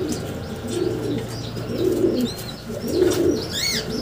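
Soft, low cooing from a bird, repeated three times in a slow rhythm, with faint chirps and other birds calling in the background.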